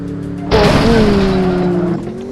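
A car in a video game crashes with a sudden loud burst, then its whining engine drones on with squealing tones for over a second before the level drops back.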